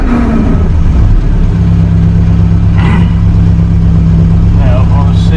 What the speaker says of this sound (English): The engine runs, but will it drive?